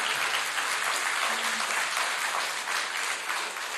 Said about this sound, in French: on peut les accompagner sous vos applaudissements